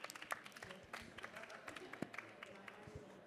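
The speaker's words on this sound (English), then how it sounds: "So if we could just welcome Justin in the panel with a few claps" A conference audience gives light, scattered clapping to welcome a panel at a retail event, with sparse individual claps heard faintly at a distance and some speech around them.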